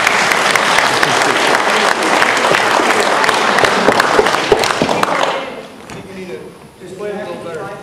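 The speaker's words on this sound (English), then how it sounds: "I think I deserve a clap for that." Crowd applause at a seminar on property rights and law, loud dense clapping for about five seconds that cuts off abruptly, followed by quieter room sound and a speaking voice.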